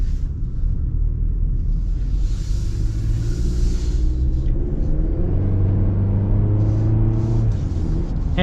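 A 2025 Chevy Colorado Trail Boss mid-size pickup accelerating from the cabin, its engine a steady low rumble that rises in pitch across the stretch, with continuous road and wind noise and no talking.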